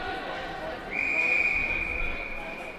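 A referee's whistle at a youth U14 ice hockey game blows one sustained shrill blast lasting about two seconds over steady arena crowd noise and a commentator's voice.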